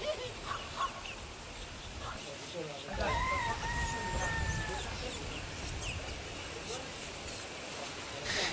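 Free-range chickens and a rooster on a rural property cluck and honk, with a brief crow-like call standing out mid-clip over a steady outdoor background, at moderate distance.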